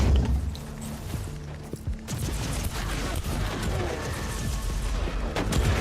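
Hydra anti-aircraft tank flak cannons firing in the game Warhammer 40K: Inquisitor - Martyr, a dense, sustained barrage of booming bursts over a low rumble, loud and continuous with sharp peaks toward the end.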